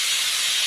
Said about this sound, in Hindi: ये देखिए कुकर सीटी देने लगा है